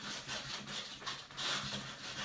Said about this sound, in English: Got quite a bit of paint on the side right there at the top, so I'm really giving it a good sanding.